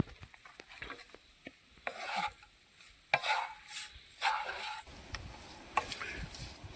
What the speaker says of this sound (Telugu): మంచిగా కలుపుకుందాం.